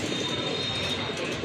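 A male Sua Chandan pigeon of very light colouring coos amid a dense, steady wash of other bird calls and chirps, as in a crowded pigeon market.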